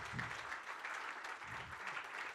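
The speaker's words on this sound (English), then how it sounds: "Big round of applause" Audience applause at the closing keynote of a Salesforce admin conference, a steady dense patter of clapping from a crowd throughout, moderately loud with no talk over it.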